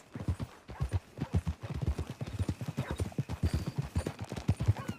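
Horse hooves clip-clopping on the ground in Red Dead Redemption 2, a steady rapid walking rhythm of close, distinct thuds that runs throughout without talk.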